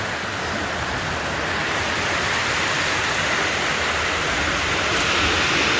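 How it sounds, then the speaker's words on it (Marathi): Heavy rain pours down hard in a steady, dense, loud roar of broadband noise with no letup and no voices. "एकदम एकदम कडक पाऊस चालू आहे मित्रांनो"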